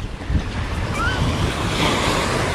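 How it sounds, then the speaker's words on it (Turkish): Waves wash onto Camel Beach in Fethiye, Turkey, a steady seaside surf rolling continuously with wind buffeting the microphone throughout; no voices are heard. "Şu anda bulunduğum yer Deve Plajı. Camel Beach."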